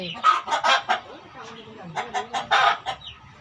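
Chickens cluck in a run of sharp, close calls broken by a brief pause, with a faint voice in the background and a rooster-like squawk mixed in.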